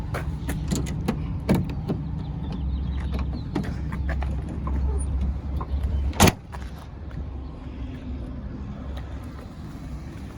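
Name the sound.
Ford F-350 Super Duty tailgate step being deployed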